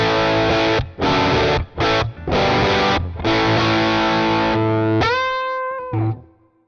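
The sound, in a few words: guitar through EHX Germanium overdrive pedal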